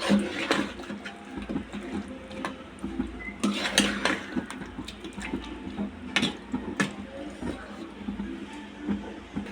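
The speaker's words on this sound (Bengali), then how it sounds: "পেঁপে আর আলুর সাথে এটাকে কষিয়ে নেব ভালো করে" Beef curry with papaya and potatoes being stirred and mixed with spices in a pot, making irregular scraping and clinking of a utensil against the metal with wet bubbling, while a person talks.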